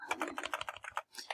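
Rapid keystrokes on a computer keyboard as a statistics command is entered in Stata, a dense run of clicks with one brief pause before typing resumes, close and clear with no talking.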